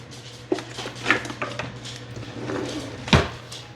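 Metal utensils scrape and clink against a pot while broth is stirred for grilled chicken ramen, giving a few sharp knocks among softer rattles, fairly close and with no talking.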